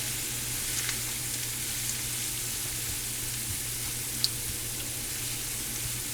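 Corned beef and cabbage frying in a pan, a steady soft sizzle running evenly throughout with a faint low hum and an occasional small tick, no voices.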